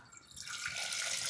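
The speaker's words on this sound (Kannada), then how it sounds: "ಫಸ್ಟ್ ನೀರು ಹಾಕೋಣ" Water is poured into a cooking pot as chicken is prepared for sandwiches, a quiet, steady splashing stream that grows slightly louder as it runs.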